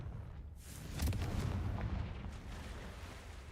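A Confringo fire spell bursts in Hogwarts Legacy, a low, rumbling explosive boom that swells and then trails off into a fading roar, fairly quiet and with no talking.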